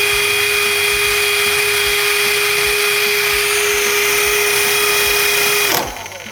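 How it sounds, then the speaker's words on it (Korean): A cut sander attachment on a cordless drill runs at full speed for an RPM check, giving a steady, loud high-pitched whine with a constant tone that stops abruptly near the end. "일단 컷센더부터 RPM을 확인해 보도록 할게요"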